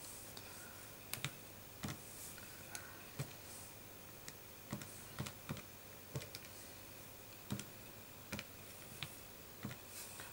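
Calculator keys are pressed one after another to enter a number, giving soft, close plastic clicks at an uneven, unhurried pace over a quiet background; no voices.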